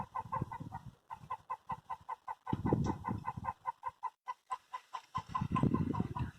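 Hens in a backyard chicken coop cluck in short, repeated bursts, with several birds overlapping at close range and brief lulls between the busier stretches.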